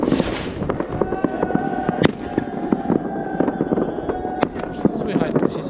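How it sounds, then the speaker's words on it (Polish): Firecrackers and fireworks burst outdoors on New Year's Eve in Nuuk, Greenland, with sharp loud cracks at about 2 and 4.4 seconds over a steady crackle and rumble of distant explosions, and voices murmuring beneath. "a już mnóstwo petardów wychodzi na zewnątrz"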